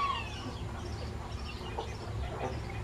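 Small chickens in a backyard poultry flock, soft scattered clucks over a low rumbling background, fairly faint and intermittent.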